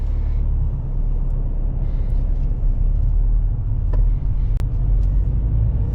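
A learner driver's car moves in first gear around a roundabout, heard from inside the cabin as a steady, heavy low engine rumble with no letup and a few faint clicks.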